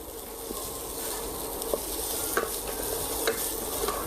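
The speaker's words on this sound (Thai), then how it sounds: "เราก็ผัดส่วนผสม3อย่างนี้ให้หอมนะครับก่อนนะครับ" Ingredients for a steak gravy sauce are stir-fried in a pan, a continuous soft sizzle broken by a few light scrapes and clicks of the spatula, close and steady, with no talk.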